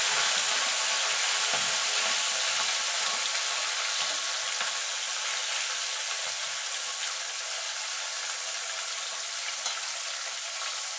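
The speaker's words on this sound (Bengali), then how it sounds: "মাছগুলোকে এপিট ওপিট করে আমি একটু লাল লাল করে ভেজে নেবো" Steady, close sizzling of river fish frying in hot oil, a dense crackling hiss that continues without pause and with no talking.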